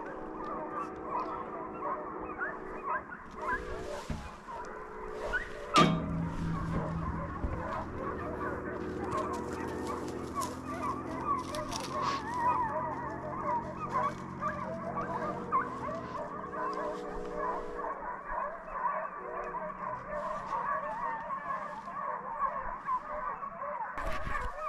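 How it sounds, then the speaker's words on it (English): Hunting hounds bay and run through the woods during a deer hunt, a continuous chorus of distant, overlapping yelps and honking cries with a few faint voices. "Got dogs running everywhere."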